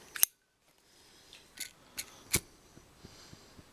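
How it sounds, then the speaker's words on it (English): Scissors snipping through braided cord for a waterfowl call lanyard, a sharp first cut followed by several lighter clicks and snips, close and clear with no talk. "You're just going to cut it."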